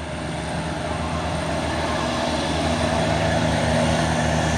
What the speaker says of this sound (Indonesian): Truk apa ini? HDL 136 PS muatan buah kelapa sawit